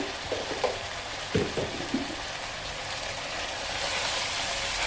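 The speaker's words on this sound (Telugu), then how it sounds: "ఈ ఉల్లిపాయ, పచ్చిమిరపకాయ, చిక్కుళ్ళు మొత్తం నూనెలో మగ్గించుకోవాలండి." Onion, green chilli and broad beans cook in oil for a village-style broad bean curry, giving a steady soft sizzle with a few stirring knocks early on, close and fairly quiet, with no talking.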